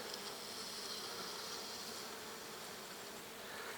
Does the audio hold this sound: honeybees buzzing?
yes